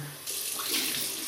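A water tap running steadily into a sink while rinsing off after a shave, a close, continuous splashing rush that swells slightly partway through.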